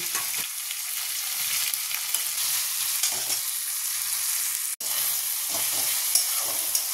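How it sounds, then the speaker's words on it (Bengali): Onion, garlic, green chilli and tomato fry in a pan with a steady, loud sizzle and crackle throughout, with occasional stirring and a brief break in the hiss. "এবার এর মধ্যে রসুন আর কাঁচা লঙ্কা দেবো, টমেটো।"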